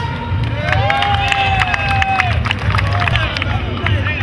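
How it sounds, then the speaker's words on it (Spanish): An audience at a parody festival show in Pontevedra claps and cheers in a lively crowd, with voices and whistles mixed through the steady applause. "¡Aplausos!"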